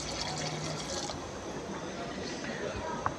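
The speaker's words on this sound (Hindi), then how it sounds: "तो इसमें शामिल करेंगे पानी, अच्छे तरीके से गल जाए।" Water is poured steadily into a pot of beef karahi gosht during cooking, a quiet continuous splashing fill in a home kitchen.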